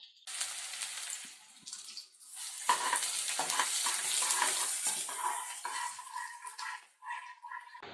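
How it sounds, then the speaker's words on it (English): One medium finely chopped onion fries in a pan, sizzling loudly and steadily up close, broken by stirring scrapes and shifting bursts of crackle. "We're going to fry this onion till it gets brown."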